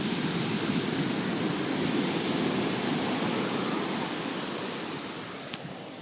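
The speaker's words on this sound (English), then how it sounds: "You can see the big waves again." Big ocean waves break and roar along Bethany Beach during Hurricane Bill, a steady, dense wash of surf filling the whole stretch and easing slightly toward the end.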